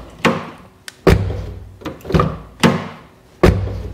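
Porsche car doors being shut repeatedly, five solid mechanical thunks spaced about a second apart, close and loud with nothing else in between.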